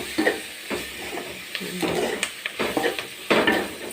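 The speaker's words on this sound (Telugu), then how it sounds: "చూసారా ఇప్పుడు మనం కడిగి పెట్టుకున్న తెల్లగంజేరు కూరని వేసుకున్నాం" Washed white gajeru greens go into a pan already holding garlic, with a few sharp clatters of a utensil against the pan and some scraping and stirring, fairly close and with no talk.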